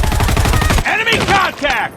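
Sniper rifle gunfire in Call of Duty Mobile sounds as a loud burst of rapid shots, followed by ringing metallic echoes and game voice callouts over continuous loud noise.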